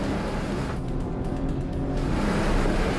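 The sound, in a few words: four-wheel-drive vehicle climbing a hill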